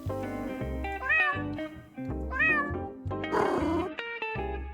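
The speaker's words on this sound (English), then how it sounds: "And when you poke it, it meows." A poked cat in a video game meows repeatedly, the drawn-out, wavering cries rising over a steady tonal background.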